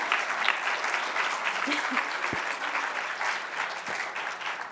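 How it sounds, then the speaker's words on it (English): Sustained audience applause for mentors at an evening mentee showcase, a dense steady wash of many hands clapping throughout with no talking. "give them a round of applause for our mentors because they're so amazing."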